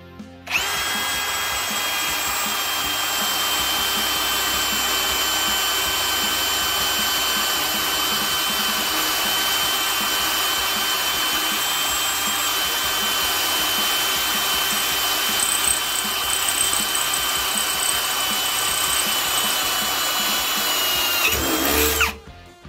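A Ryobi One+ PBLDD01 cordless drill bores through quarter-inch-thick plate in one long, loud, steady whining grind with a bright tonal edge, close by, ending abruptly after about twenty seconds.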